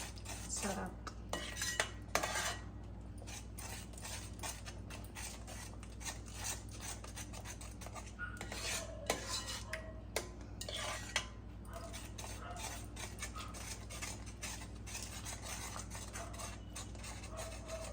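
A spoon stirring beetroot halwa in a pan, quiet repeated scrapes and light metallic clinks against the pan over a low steady hum, close and soft with no talking.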